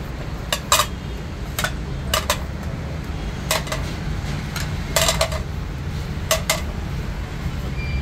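Melamine dinner set plates, dishes and spoons handled at a crockery shop in Hyderabad, India, with repeated sharp clacks and clinks in irregular clusters over a steady background hum, close and fairly loud.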